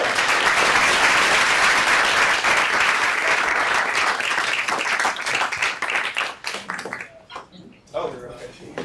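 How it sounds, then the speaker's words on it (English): Loud, dense applause from a large audience at a venture capital talk, steady for about six seconds before thinning into scattered claps and fading, with voices talking over the tail end. "round of applause"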